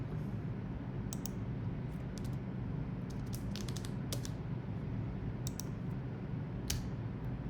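Quick bursts of computer keyboard typing while writing Symfony 6 Twig template code, soft clicks scattered in short clusters over a steady low hum, close and fairly quiet.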